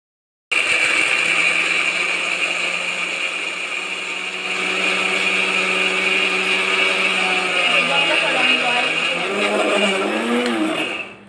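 A blender grinding nuts in a jar, running as one steady, loud motor whine for about eleven seconds before it cuts off.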